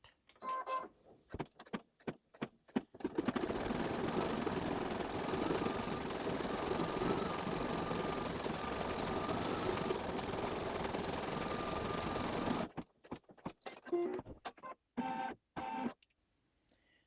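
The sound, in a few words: embroidery machine stitching zigzag stripes on quilt block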